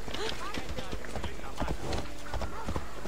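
Horse hooves clip-clopping in Assassin's Creed Odyssey, a steady trotting rhythm of sharp hoof strikes over ambient game sound, with someone talking over much of it.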